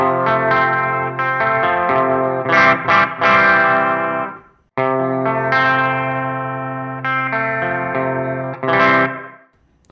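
An electric guitar plays chords through a Meris Mercury X reverb pedal set to low diffusion, giving dense sustained washes with a wavering, almost tremolo-like pulse; loud and close, with two phrases separated by a brief gap and no talking.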